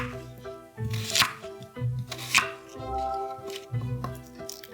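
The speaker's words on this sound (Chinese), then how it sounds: "先把土豆切好" Potatoes are cut with a knife on a board, giving several close, rhythmic chops with faint knocks and rustling between strokes and no speech.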